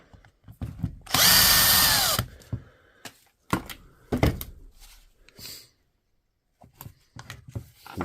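A power drill backs the last screw out of a Dewalt DCH253 rotary hammer during a teardown and repair, with one loud whirring run of about a second, followed by scattered clicks and handling knocks.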